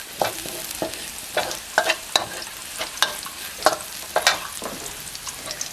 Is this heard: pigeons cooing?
no